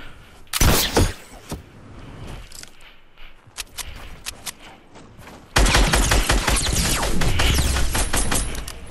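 Gunfire in the video game Fortnite: a sharp early burst of shots, then a scatter of single cracks, followed by a loud, sustained stretch of rapid firing and impacts that runs to the end.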